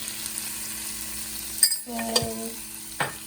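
Tomatoes cook with salt and turmeric in a pan for pav bhaji, giving a soft steady sizzle, then a few close clinks and scrapes of a utensil stirring near the end.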